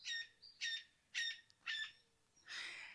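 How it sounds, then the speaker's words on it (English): Several loud, harsh bird calls in a row, squawking parrots close by in Jamaica, followed by a longer raspy screech, with no talking. "Y'all hear the parrots?"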